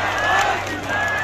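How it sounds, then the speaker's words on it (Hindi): A large crowd at a political election rally in Jagdalpur shouts a slogan together, a loud, sustained swell of many voices that dips briefly and rises again. "एक बार और जोरदार मल्लिकार्जुन करके जिंदाबाद"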